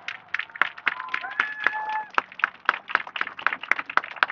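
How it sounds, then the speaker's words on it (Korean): A modest outdoor crowd at a political campaign rally in Dongtan Lake Park claps in scattered, uneven bursts, with a faint whistle-like tone drifting through early on. "박수 부탁드리겠습니다."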